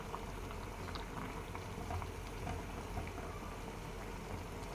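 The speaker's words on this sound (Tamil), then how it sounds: "ஒரு பதினஞ்சு நிமிஷம் அப்படி தண்ணியில் போட்டு கொதிக்க வச்சுக்குவோம்" Water bubbles at a steady boil in a pot of green bananas, a soft continuous churning with faint pops, fairly quiet and with no voices.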